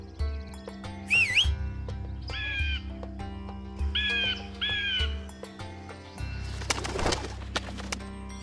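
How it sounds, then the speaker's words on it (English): Several crow calls ring out in short bursts, a few harsh warbling caws spaced across the span over a faint low hum, ending in a brief scuffle of rustling noise; no one speaks. "That bird always follows me."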